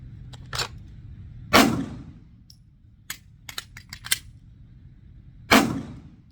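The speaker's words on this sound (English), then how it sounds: "So you can rack the slide over the top." A pistol slide is racked over the top, giving two sharp metallic clacks a few seconds apart, with lighter clicks and handling rattles between them in a quiet room.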